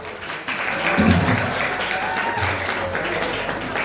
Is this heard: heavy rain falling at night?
no